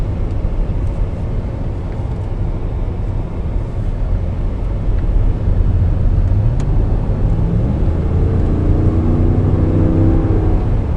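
2014 Dodge Ram Hemi short-bed pickup accelerating from inside the cab, a deep steady engine rumble with revs climbing and stepping through gear shifts toward the end.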